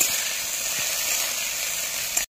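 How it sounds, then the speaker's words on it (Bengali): Sliced bitter gourd (karela) frying in hot oil for Bengali shukto, giving a steady, even hiss and sizzle that cuts off abruptly at the end, with no voices. "করলাটা সুন্দর করে ভেজে নিই।"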